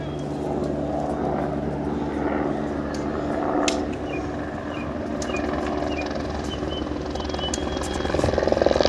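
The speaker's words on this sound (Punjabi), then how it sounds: "ਦੇਖੋ ਸਾਹਮਣੇ ਹੈਲੀਕਾਪਟਰ ਆ ਰਿਹਾ।" A shuttle helicopter flying from Govind Ghat approaches Govind Dham among mountains, its rotor drone steady at a distance and growing louder toward the end.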